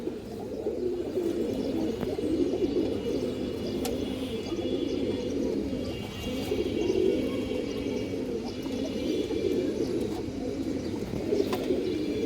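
Pigeons coo continuously in a loft, a silver-light-coloured pigeon of good blood among them, the low throaty calls layered and steady throughout with faint chirps above.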